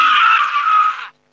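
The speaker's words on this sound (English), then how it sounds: "There was some guy screaming in pain." A man screams in pain with a single loud, sustained, strained cry that lasts about a second and then cuts off abruptly into silence.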